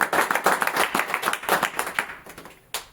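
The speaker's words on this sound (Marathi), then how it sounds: "काकांसाठी एक वेळ आपण पुन्हा एकदा त्यांच्यासाठी टाळ्या वाजवू" A crowd at a school celebration of Gadge Baba's birth anniversary claps for an elderly man in a brisk burst of many hands that thins and fades, ending with one last clap.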